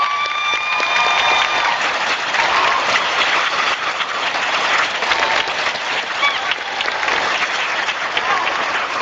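Parents at a high school graduation ceremony applaud: loud, steady clapping from a big crowd filling the space for several seconds, with faint voices and cheers mixed into the wash.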